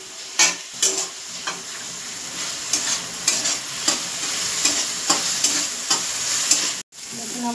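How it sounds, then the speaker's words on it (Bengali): Prawns frying with salt and turmeric in a pan, a constant crackling sizzle punctuated by regular sharp scrapes of a spatula stirring them, close and alone, with a brief break near the end. "ভেজে নেব।"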